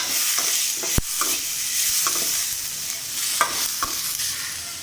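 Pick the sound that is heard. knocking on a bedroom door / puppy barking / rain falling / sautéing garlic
sautéing garlic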